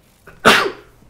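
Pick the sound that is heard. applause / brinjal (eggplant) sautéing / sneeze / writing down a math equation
sneeze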